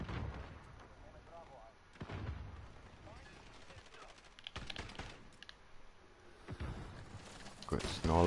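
Gunfire in Call of Duty Modern Warfare on PS4: loud bursts and sharp single shots, including a shotgun, crack out at irregular intervals amid game noise, with players talking over the action.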